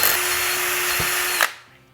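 A power drill bores strain relief holes in a homemade 10 meter dipole antenna part, one steady whining run that stops abruptly near the end, loud and close with no talk.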